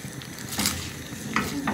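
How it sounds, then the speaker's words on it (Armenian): Vermicelli cooks in a pot of salted water, a soft bubbling simmer close by, punctuated by a few light metallic clinks of a utensil against the pot. "այս վերմիշելն եմ եփում"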